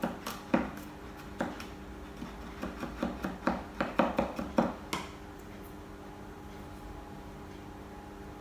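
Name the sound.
finely chopping garlic with a knife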